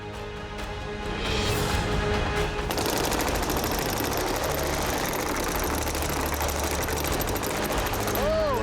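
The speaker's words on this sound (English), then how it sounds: "It's a pair of fully automatic paintball guns that will be mounted in between our cannon barrels." A pair of fully automatic paintball guns mounted on a car fire in a steady, rapid mechanical rattle that runs continuously after a short buildup, loud and close, with a voice speaking over it.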